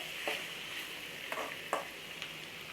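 Radish-leaf sabzi cooks in a pan with a constant hissing sizzle, broken by a few brief scraping stirs, heard up close and alone with no speech.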